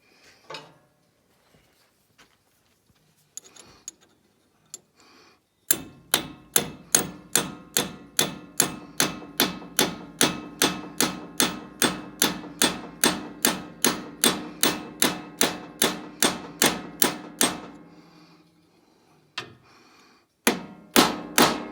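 Steady, rapid metallic hammer blows on a brass drift, dozens of evenly spaced ringing strikes close by, the sound changing as it reaches the bottom, with a few scattered taps before and after.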